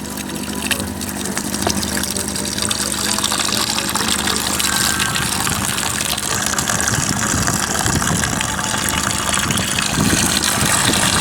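Steady rushing water flows continuously from a tap at a cemetery into a container, a dense broadband gush with a low mechanical hum beneath it, fairly loud and close.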